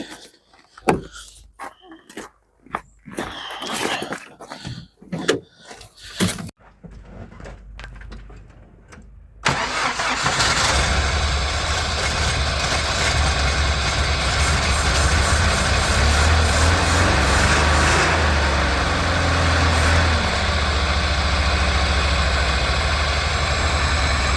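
After a long standstill, a GAZ truck's starter clicks and turns in short bursts, then the engine fires and settles into a loud, steady, rumbling run close by.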